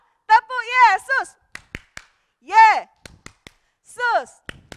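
Kids' clapping chant in a children's church service: a few sharp, sparse claps scattered between sung or chanted voice phrases, quiet room, claps thin and somewhat distant.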